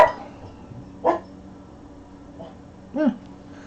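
A dog barks at a propane delivery man next door, giving two short, sharp barks about two seconds apart at moderate distance, with faint low household noise between them.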